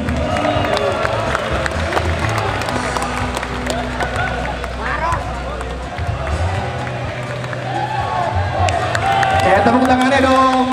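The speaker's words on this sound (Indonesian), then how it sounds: "Tepuk tangan yang meriah dong" A crowd applauds and cheers at the launch of a regional football team and jerseys, a loud continuous roar of clapping and cheering with babble and amplified talk over it.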